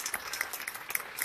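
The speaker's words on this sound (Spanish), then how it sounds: "Fuerte el aplauso para ella, que se oiga" Audience claps for a woman at a church gathering, a short burst of scattered, individually distinct hand claps at moderate distance, faint and uneven.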